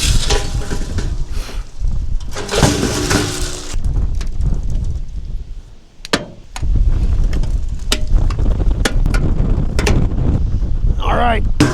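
Strong gusting wind buffets the microphone on a farm during corn harvest, with gusts of around 40 miles an hour ahead of a cold front. It roars loud and steady with rough bursts, and someone talks over it in places.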